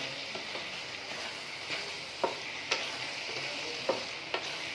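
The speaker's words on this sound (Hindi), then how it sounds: "तो मैं इसको मज़ीद 2 मिनट के लिए भूनूंगी" Chicken keema fries in oil in a pan with a low, even sizzle, while a spatula stirs it in intermittent taps and scrapes roughly every half second, close and unaccompanied by speech.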